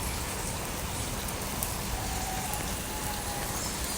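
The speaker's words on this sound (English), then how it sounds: "It's raining really good in the pond. It's raining pretty good out here in the middle of the walkway too." Steady rain falls on a pond and a walkway outdoors, a dense, even hiss of drops that stays loud and constant throughout with no voices.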